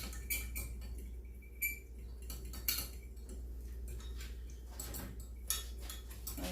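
A spoon clinks and taps against a bowl while stirring a cornstarch and water slurry, giving quiet, irregular scraping and ticking sounds over a low background hum.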